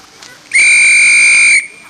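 A single loud, shrill whistle blast starting a fishing competition, held for about a second, sharp and steady, then cut off, with quiet before and after.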